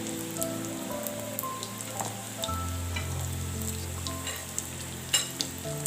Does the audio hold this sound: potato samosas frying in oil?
yes